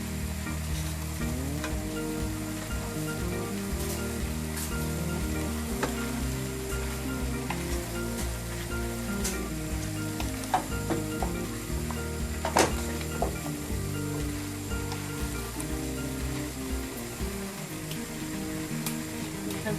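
Mixed vegetables sizzle and fry steadily in a pan for Chinese restaurant style mixed veg, with a continuous close crackle and occasional clinks of stirring throughout, no talking.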